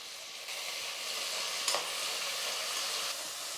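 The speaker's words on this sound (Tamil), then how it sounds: "வெங்காயம் வந்து நல்லா வதங்கிடுச்சு" Chopped onion and a single tomato sauté in a hot pan, a steady close hiss of frying with one brief scrape of stirring partway through.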